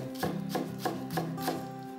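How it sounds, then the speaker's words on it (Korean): A knife slices green onion on a cutting board, with about six quiet, evenly spaced chops under a soft tonal background hum. "대파 2분의 1개는 송송 썰어주세요."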